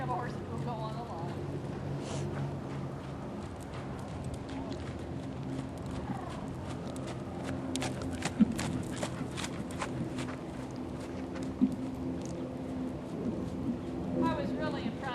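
A horse working on a lunge line gives a steady run of soft hoof clip-clops at moderate distance, under people talking over a continuous background hum.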